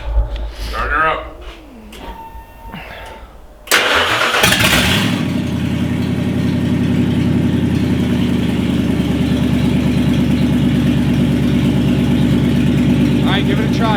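A newly bought truck engine cranks and catches after a brief stumble, then settles into a loud, steady idle close by, with people talking briefly before it starts.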